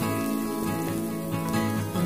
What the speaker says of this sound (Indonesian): Kemudian kita masukkan kacang kaprinya.